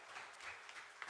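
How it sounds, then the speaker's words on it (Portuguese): A church congregation at a family service applauds, heard as a distant, faint patter of clapping that holds steady for a brief moment. "Você pode dar uma salva de palmas bem forte para Jesus?"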